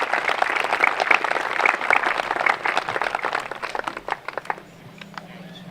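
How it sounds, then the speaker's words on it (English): A crowd at a Celtic festival opening ceremony applauds a color guard, with dense clapping that holds steady and then thins to a few scattered claps before fading out. "Give them a round of applause."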